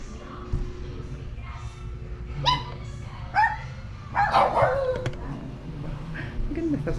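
A pet dog at a boarding house barks and yips in several short bursts, mixed with whimpers, over room noise and quiet talking.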